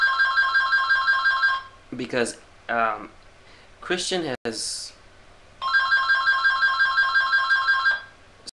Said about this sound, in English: sorry for the phone